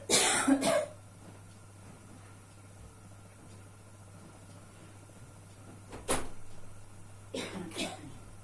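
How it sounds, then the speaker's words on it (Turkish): A few sharp coughs burst out nearby, one cluster at the start and more a few seconds later, separated by quiet room hum. "Öksürdüm arkadaşlar"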